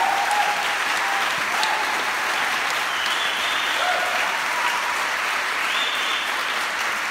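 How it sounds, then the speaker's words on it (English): A tribute concert audience on Kauai breaks into loud, sustained applause, dense clapping holding steady throughout with a few whistles rising above it. "let's give her a round of applause"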